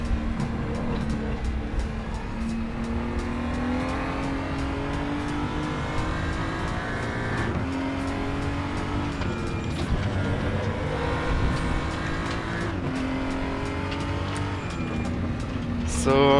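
A BMW M235i race car in RaceRoom during an online race, its engine droning loudly and continuously with rising revs and gear changes while a voice talks over it.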